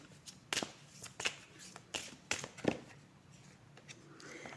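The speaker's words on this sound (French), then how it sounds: "Je vais tirer une dernière carte." Cards slide and flick against each other while an oracle deck is handled to draw a card, giving a series of short, crisp papery snaps close by.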